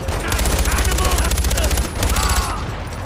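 Rapid video-game gunfire from Far Cry 5 while driving and shooting, a dense continuous fusillade of shots over a low engine rumble, loud and close throughout, with voices talking over it.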